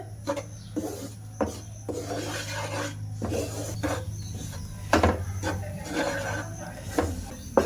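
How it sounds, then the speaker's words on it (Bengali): Flour being fried in ghee and stirred in a pan: rhythmic scraping and rasping strokes of a spoon against the pan bottom, repeated steadily and fairly close. "ঘি দিয়ে ভাজা করছি ময়দাটা"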